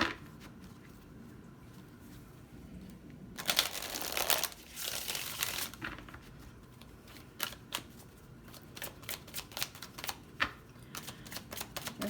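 A deck of tarot cards is shuffled close by in quick bursts of papery riffling and snapping clicks, broken by brief pauses, with no speech.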